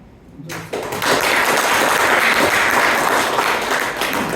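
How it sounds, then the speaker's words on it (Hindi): A hotel audience at a business networking event breaks into loud, sustained applause that starts abruptly and continues as a dense wash of clapping. "ये तो अपने लिए ताली सुनाई दिया"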